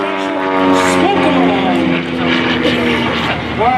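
A propeller aerobatic plane flown by Bob "Rooster" Schmidle in red with smoke at the 2024 Leesburg Airshow, its engine droning loudly and close with rising and falling pitch, with a voice talking over it.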